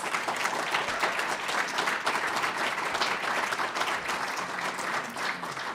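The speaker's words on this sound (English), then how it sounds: "So a huge round of applause." Steady applause from an audience at a tribute event for writer and activist Sekou Sundiata, dense clapping sustained evenly from start to finish with no voices over it.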